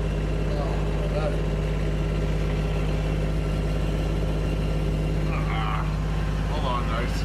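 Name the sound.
Kubota tractor engine idling while warming up in the cold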